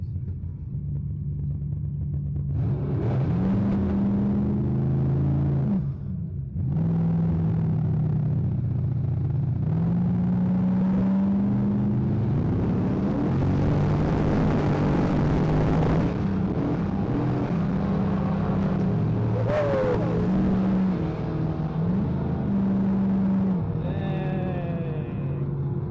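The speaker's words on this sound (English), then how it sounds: "I'm just gonna see how high I can foot brake it with no limiter" A drag racing car with no rev limiter revs hard against the foot brake while spinning a slick, its engine note climbing and falling in repeated loud, rough surges with a deep rumble throughout.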